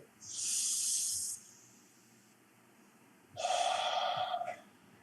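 A person imitates a smoker's exaggerated deep breath: a long hissing inhale, a pause, then a strong rasping exhale, close and loud with no talk.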